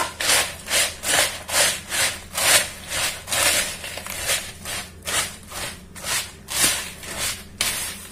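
A no-bake cake mixture with crushed biscuits is stirred in a bowl, giving rhythmic scraping strokes about once per second that repeat steadily and close with no talk.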